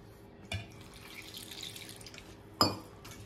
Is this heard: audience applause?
no